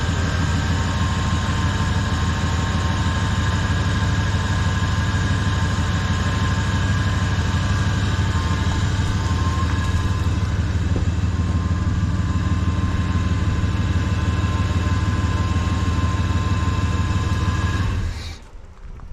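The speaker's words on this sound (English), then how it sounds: "It sounds like a pulley or something up here that's whining. I think it's the power steering." Steady close-up car engine idle with a constant high-pitched power steering whine layered over the low rumble, cutting off abruptly at the end.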